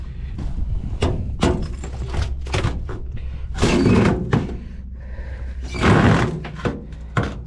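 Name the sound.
frozen door being forced open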